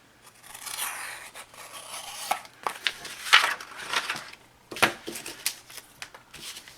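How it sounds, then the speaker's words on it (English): Scissors trim a paper postcard by hand in a run of crisp, uneven snips and paper scrapes, close and fairly quiet, with short pauses between cuts. "I'm just going to trim it with these scissors."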